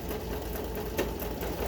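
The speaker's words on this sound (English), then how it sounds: "And I'm gonna run it through the sewing machine." Sewing machine stitching through paper book pages in a craft setup, a steady close mechanical whir with a faint periodic needle patter running for under two seconds.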